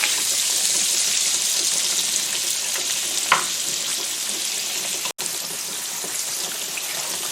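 Butter melting into vegetable oil in a pan, giving a steady even sizzle and crackle up close, with one brief clink partway through and no talking.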